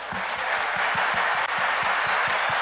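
Church congregation applauding at a Sunday camp service, a steady dense wash of clapping filling the room with a faint rhythmic low thumping beneath it.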